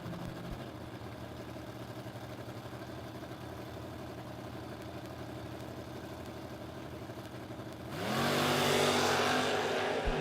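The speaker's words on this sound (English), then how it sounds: "Good, clean drag race." Drag racing cars, including a 1992 Ford Mustang, idling and rumbling at the line, then a loud surge as they launch and accelerate hard away down the strip.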